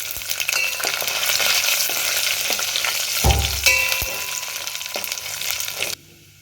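Cashews crackle and sizzle steadily in hot oil for a fennel-seed tempering for aloo sagu, with a stir-like scrape midway, before the sizzle cuts off abruptly near the end.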